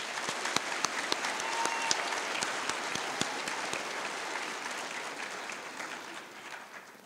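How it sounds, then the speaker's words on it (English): An audience at an 8th grade middle school promotion ceremony gives a big round of applause, many hands clapping in a dense, sustained wash with sharp individual claps on top, fading slightly toward the end. "Let's give them a big round of applause."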